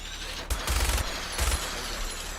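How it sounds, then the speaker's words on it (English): A minigun fires in Fallout 4 during a fight with a Deathclaw, two short, loud rattling bursts of rapid gunfire over a constant low background hum. "let's switch over to the minigun"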